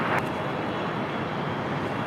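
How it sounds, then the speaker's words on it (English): A JetBlue Airways Airbus A320 inbound from Las Vegas lands at LAX, giving a steady, distant broadband jet roar that holds evenly throughout. "That was JetBlue Airways Flight 1279 coming in from Las Vegas on that A320"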